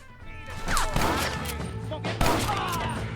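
Sharp bursts of gunfire in Red Dead Redemption crack out twice amid a busy firefight, over a steady electronic drone.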